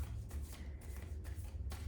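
Tarot cards are shuffled and pulled from the deck, giving soft, close papery riffles and slides in a few brief bursts over a low steady background hum.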